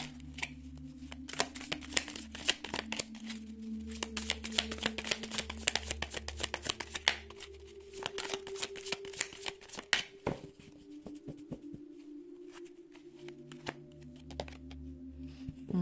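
Oracle cards being shuffled by hand, a close, continuous stream of crisp flicking card riffles and slaps, with a low hum underneath and a brief pause partway through.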